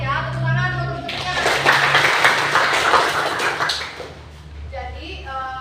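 Classroom of students clapping for their classmates, a dense burst of applause lasting a few seconds between a teacher's spoken lines.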